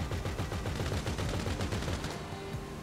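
Sustained rapid-fire shooting at a low-flying helicopter in the video game GTA Online, a loud steady stream of shots that tapers near the end.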